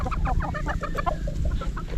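Breeding pullets clucking close by, a busy run of short throaty clucks from several hens with no talking over them.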